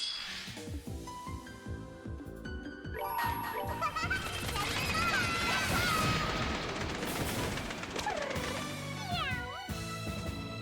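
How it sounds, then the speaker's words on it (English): Cat meows and caterwauling from the video game Trails in the Sky The 3rd ring out over game music, several rising and falling cries near the end, loud and clear. "I wasn't expecting the cat noises out of the end"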